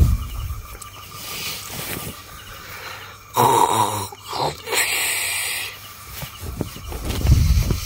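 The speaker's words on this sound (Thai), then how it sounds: "เริ่มมีเสียงกรนจากเต็นท์ข้างแล้วนะครับ" Snoring drifts from a neighbouring tent at a cold campsite in the Khao Yai forest, rough rasping breaths rising and falling under steady outdoor background noise, with louder snorts near the middle.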